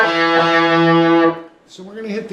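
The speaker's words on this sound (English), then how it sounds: "the next lick of the solo comes up here to the open position and will sound like this" A distorted electric guitar plays a short solo lick in open position, with a sustained ringing note that fades before a few quieter picked notes.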